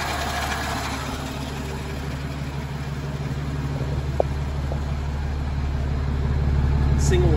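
A 1939 DeSoto S-6 touring sedan's engine idles steadily through a single exhaust with a low, continuous rumble, growing slightly louder toward the end, with a faint click partway through.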